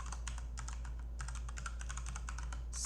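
Rapid keystrokes on a computer keyboard while writing Cypress test code, bursts of light clicking taps in quick irregular runs with brief pauses, close and fairly quiet over a low steady hum.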